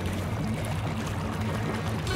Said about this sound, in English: The water must have gone down that pipe spout!